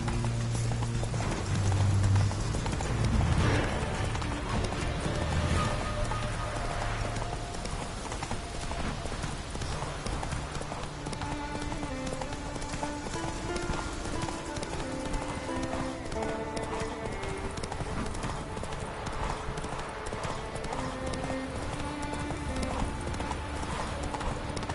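Roach, Geralt's horse in The Witcher 3, clip-clops with a steady rhythmic hoofbeat throughout, joined by a soft whinny early on and a layer of background music.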